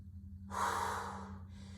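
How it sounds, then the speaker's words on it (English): One deep, breathy exhale from a person lifting through a weighted bicep curl, close and fairly quiet, over a steady low mechanical hum. "Taking a nice deep breath in, exhaling as you rise."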